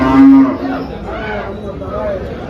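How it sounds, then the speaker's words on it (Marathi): A pregnant dairy cow at the Dhule cattle market moos loudly and close by, a long low call that trails off into murmuring voices nearby. "तीन महिन्याची गाभण सुद्धा आहे गाय"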